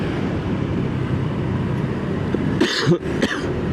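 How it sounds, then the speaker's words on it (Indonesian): Two short, harsh coughs come close together near the end, close to the listener, over a constant low rumble of traffic during a night ride on a Stylo scooter. "Batuknya berulang kali nih. Lagi batuk emang saya."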